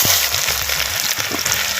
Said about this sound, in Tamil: ஐம்பது கிராம் பெரிய வெங்காயத்தை தோல் நிற்கி அலசி சின்ன சின்னமாக நறுக்கி இப்போ சேர்த்துக்கிறேன்